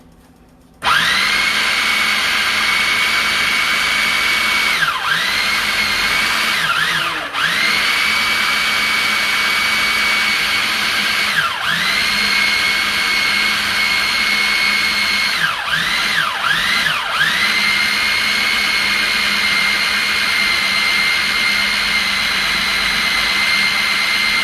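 An electric blender or food processor chopping fresh salmon for croquettes: a loud, steady high whine that runs nonstop, with several brief dips in pitch as the blades bog down in the fish.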